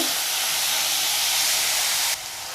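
Onions and garlic roast in a hot pan, producing a loud, continuous sizzling hiss that drops slightly near the end.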